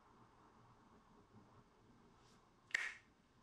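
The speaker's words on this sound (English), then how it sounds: "When I snap my fingers" A single crisp finger snap in the video game Telling Lies, sharp and brief, standing out once over a faint, quiet background hum.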